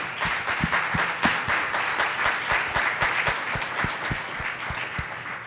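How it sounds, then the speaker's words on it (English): Conference audience applauding in a sustained, even round of many hands, with a few nearby claps standing out over the crowd. "Let's do a round of applause for Drew right now."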